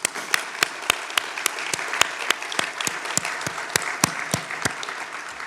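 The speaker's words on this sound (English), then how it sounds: "So let's give an early applause to all 9 of" Audience applause for nine honorees at a clean energy keynote, a dense steady wash of many hands with sharp louder claps standing out at a regular beat, sustained throughout with no voices.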